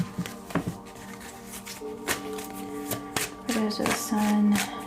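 Tarot cards are shuffled by hand in a series of short papery riffles and taps, irregular and close, with a low hum and a few faint voiced sounds underneath.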